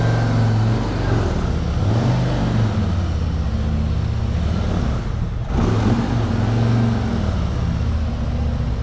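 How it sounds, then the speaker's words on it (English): A Harley-Davidson Road King Special motorcycle engine runs loud and near inside a parking garage, with a deep, steady rumbling idle that swells in a couple of throttle blips and echoes off the concrete, and no voices. "You gotta love the sound of your bike in the parking garage."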